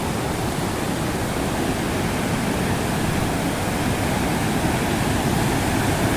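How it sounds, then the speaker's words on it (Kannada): Hosur Falls in Karnataka pours in a steady, dense roar of rushing water, loud and unbroken throughout with no voices. "ಬಂತು ನೋಡ್ರಿ ಫಾಲ್ಸ್."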